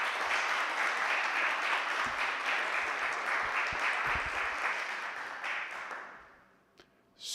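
Applause at a school board meeting, a full room clapping steadily for several seconds before it tapers off and fades to near silence, with a few stray claps at the end.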